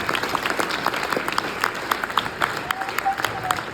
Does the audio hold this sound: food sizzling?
no